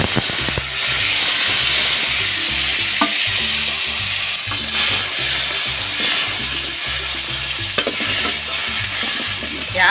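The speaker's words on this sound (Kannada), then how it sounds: "ಎಣ್ಣೆ ಕಾದಿದೆ ಸಾಸಿವೆ ಜೀರಿಗೆ ಹಾಕ್ಕೊತಾ ಇದ್ದೀನಿ" Mustard seeds and cumin sizzling in hot oil, a loud dense crackle and hiss with regular rhythmic stirring scrapes and a few sharp pops, heard up close with no talking.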